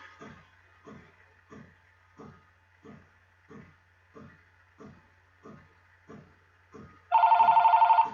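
Telephone ringing with an incoming call during a live talk show, a steady series of short repeated rings at regular intervals, ending in a louder, denser burst of ringing.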